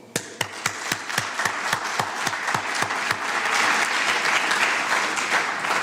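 Audience applause at a diplomatic seminar, opening with a few loud, distinct claps and quickly swelling into dense, sustained clapping from the crowd.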